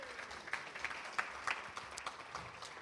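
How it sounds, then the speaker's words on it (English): Applause rises from a banquet audience at the 92nd Elmhurst Chamber of Commerce & Industry awards dinner and Hall of Fame induction, a fairly soft, steady patter of many hands with a few sharper claps standing out. "Nice round of applause."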